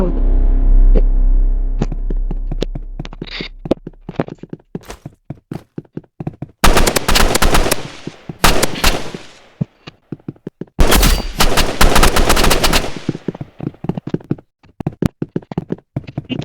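Gunfire in the Roblox revolver game: a loud low hum at first, then rapid bursts of shots and sharp single pops, with dense stretches of automatic fire between sparse taps.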